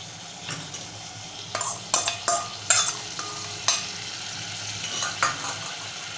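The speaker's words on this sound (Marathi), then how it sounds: "आता आपण जे टॉमॅटो हिरवी मिरची आणि कोथिंबीर यांची पेस्ट बनवून घेतलेली ती घालूया" Tomato, green chili and coriander paste going into a pan of frying Malvani-style mutton curry and being stirred, with a steady low sizzle and a run of sharp spoon scrapes and clinks against the pan in the middle, no talking.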